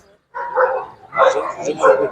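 Hunting dogs of the Russian-European laika breed bark in short bursts in a junior-class show ring, three barks or yelps spaced across the moment, close and fairly loud.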